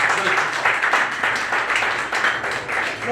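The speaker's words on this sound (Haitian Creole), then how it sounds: "Moi, je demande pour nous applaudir." Audience applause at a Haitian gathering, a brief burst of steady, fairly close clapping from a small crowd, with voices mixed in.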